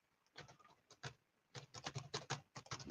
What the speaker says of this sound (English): Actually, I'll just type it in